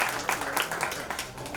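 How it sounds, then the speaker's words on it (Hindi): Audience applause at a film trailer launch, a steady, dense wash of many hands clapping throughout a short stretch, fairly loud and close with no gaps. "तुहिन जी के लिए भी जोरदार तालियां बजाएं"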